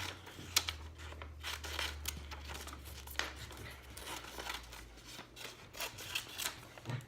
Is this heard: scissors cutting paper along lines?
yes